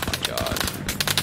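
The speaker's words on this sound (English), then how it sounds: "Hey, we're being shot at. Return fire." Rapid automatic gunfire in the video game Arma Reforger, several short close bursts of shots rattling over roughly a second, with a voice briefly heard between them.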